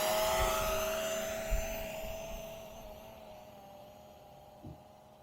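A Ruko U11 drone in flight gives off a steady whirring propeller drone that slowly fades as it moves away, with faint thumps near the end and no talk.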